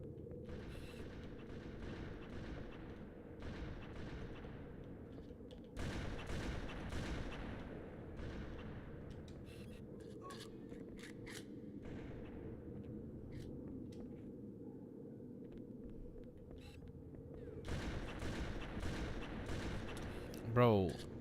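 Gunfire in a Halo multiplayer match: bursts of shots and explosive booms come in waves over a steady game rumble, with a voice faintly mixed in.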